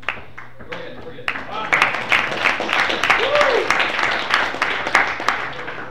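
Scattered applause from a crowd at a Senate meeting builds into steady clapping, with voices talking underneath.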